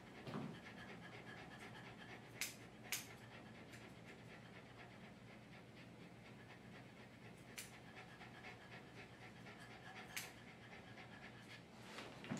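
An aggressive dog pants rapidly and continuously while being groomed, a close, rhythmic breathy rasp broken by a few sharp clicks and knocks.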